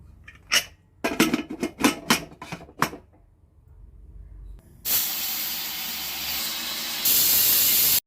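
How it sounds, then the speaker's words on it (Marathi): A pressure cooker of dal for puran poli sits on a gas stove. A few sharp metallic clicks and taps come first, then a loud, continuous hissing steam whistle bursts out and grows even stronger near the end. "आता आपण झाकण लावून मस्त अशा 3 शिट्या करून घेऊया."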